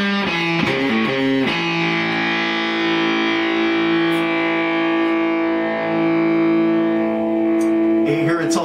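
An electric guitar plays through a Snow Day FET/MOSFET overdrive pedal with a built-in compressor at higher gain, giving a few picked notes and then a long, sustained distorted chord that rings out evenly before another strum.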